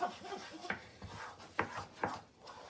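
A wooden spatula scrapes and pushes an egg scramble around a pan in a few short, rough strokes, close and fairly quiet, with no talking.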